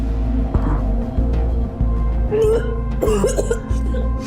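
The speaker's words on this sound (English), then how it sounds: "You're keeping the whole house up with your disgusting cough." A few short coughs break out over a constant low hum, sounding close and harsh, with brief gaps between them.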